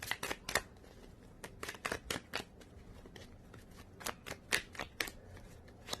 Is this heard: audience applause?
no